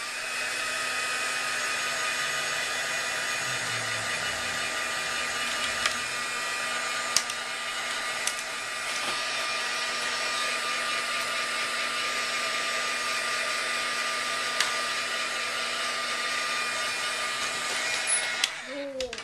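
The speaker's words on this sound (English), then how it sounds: "and then now I'm going to dry it up" A hair dryer blows steadily and close over a faux varnished inked paper frame for a mini album, a continuous whooshing drone running alone for nearly twenty seconds before switching off at the end.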